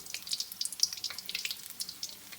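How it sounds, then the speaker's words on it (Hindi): Bread pakora frying in ghee over medium heat, a steady crackling sizzle with sharp bright pops scattered throughout, close and moderately loud, with no voices. "घी में छोड़ दें और दरमियानी आंच पर इसको गोल्डन ब्राउन करें।"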